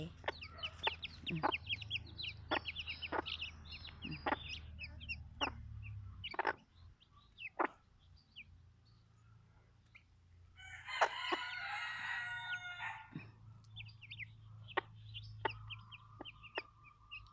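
Silkie chickens kept with their chicks cluck repeatedly in short, scattered calls. A longer, louder crowing-like burst rises in the middle, over a low, steady background hum.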